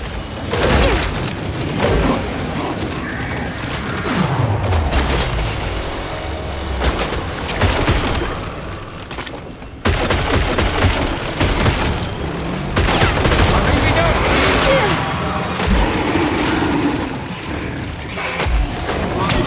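A grenade explosion and gunfire in Killing Floor 3 come through as a long, loud, chaotic stretch of booms, rapid shots and mechanical clatter, with voices talking over parts of it.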